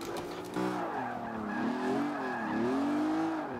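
Lamborghini Aventador or BMW M3 drift build in Forza 5 sliding through a quick transition, engine howling steadily with rising and falling pitch under continuous tire squeal, loud and close throughout.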